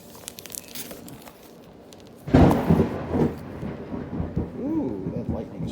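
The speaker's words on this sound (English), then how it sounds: "that lightning is striking real close there" Thunder from a nearby lightning strike, a sudden loud crack that rolls into a rumbling tail, following a quieter stretch of indoor background.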